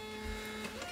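A Dymo 4XL label printer runs while printing a shipping label, giving a steady, close mechanical whir with a faint low rumble, heard alone for under a second.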